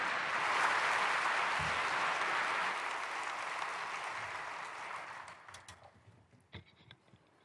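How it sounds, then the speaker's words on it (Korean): A church congregation at a prayer meeting for peaceful reunification claps to welcome the general assembly president. The applause is dense and full at first, then thins over several seconds into scattered final claps. "기대하는 마음을 가지고 우리 총회장님 박수로 환영하겠습니다."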